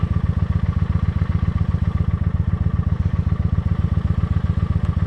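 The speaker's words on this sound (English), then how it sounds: "This bike needed a warm-up period anyway." A motorcycle engine warming up at idle, a steady rhythmic low thumping close by and fairly loud, with no talk over it.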